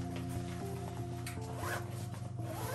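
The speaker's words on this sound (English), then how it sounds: "Unzip this bad boy." Zipper on a travel bag or packing organizer pulled open, a steady rasping slide running through the whole moment, close and fairly quiet over a low room hum, with no talking.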